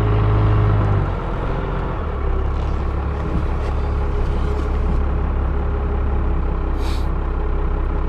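A 1997 Dodge Ram 3500 Club Cab dually pickup on the move, its engine a loud, steady low drone and rumble heard from inside the cab, with a brief shift in pitch early on and a soft hiss later.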